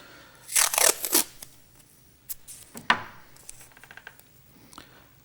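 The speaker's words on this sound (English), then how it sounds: "cut a small stripe from the tape, about 3 millimeters" Scissors snip a small strip of tape for rod building, several sharp close cuts in a quick cluster, then a few scattered snips and light rustles after a pause.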